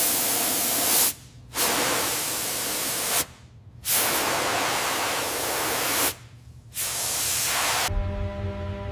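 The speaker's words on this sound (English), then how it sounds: "Start with the air hose." An air hose in a silicone doll factory blasts loud, steady hissing bursts, three long spurts broken by short pauses, then cuts off into a lower mechanical hum.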